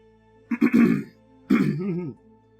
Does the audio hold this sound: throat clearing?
yes